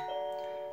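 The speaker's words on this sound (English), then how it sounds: "relay operates, doorbell goes, everything works as it should" An existing door chime triggered through a relay by a Nest Hello video doorbell gives a single clear, ringing tone that rings on and slowly fades, close and alone.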